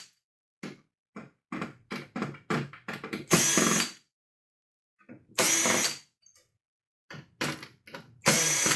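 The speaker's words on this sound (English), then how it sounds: "I'm going to take these screws out." A power screwdriver removes screws from the main board of a 65-inch LG smart TV, whirring in repeated short bursts with a few longer runs and brief silent gaps, close and fairly loud.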